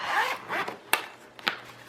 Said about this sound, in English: Let me open this zipper thingy up.